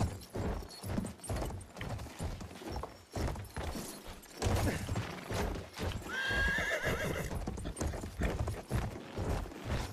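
Horse in the Battlefield 1 video game: rhythmic galloping hoofbeats pound steadily and close, and a loud whinny rises partway through.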